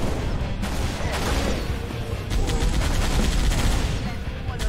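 Gunfire in the Halo Reach campaign, bursts of rapid automatic shots over a loud, rumbling battle bed that grows denser toward the end, with some voices underneath.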